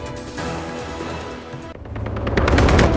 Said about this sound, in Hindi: कनाडा में कॉमेडियन कपिल शर्मा के कैफे पर फिर फायरिंग।